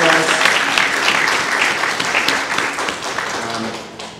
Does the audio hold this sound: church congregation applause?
yes